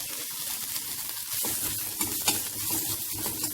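Ginger and grated coconut frying in a pan, a steady close sizzle with faint stirring scrapes running throughout, loud and continuous with no voices.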